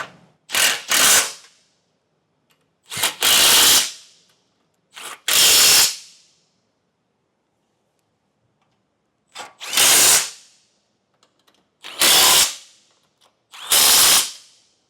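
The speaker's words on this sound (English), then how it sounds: "We can tighten those down with the same 15mm socket that we used to remove the factory nuts." A power tool with a 15mm socket tightens nuts on a hidden hitch receiver on a 2022 Volvo. Six loud, close bursts of impact-driver rattling, each about a second long, are separated by near silence.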